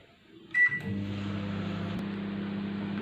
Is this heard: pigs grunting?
no